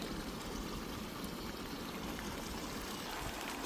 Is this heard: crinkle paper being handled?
no